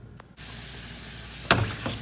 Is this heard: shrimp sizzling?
yes